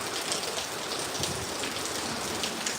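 Steady monsoon downpour in Kozhikode, Kerala, with wind, drumming evenly on surfaces close by, a dense continuous hiss with no voices.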